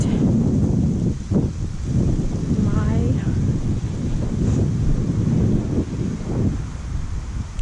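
Strong wind on open water during a fishing trip, roaring and buffeting the microphone in a loud, constant low rumble with choppy water underneath; a brief muffled voice surfaces partway through.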